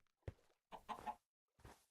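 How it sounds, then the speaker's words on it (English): A chicken in a video game gives three short clucks, clear and close, with silence in between. "Chicken."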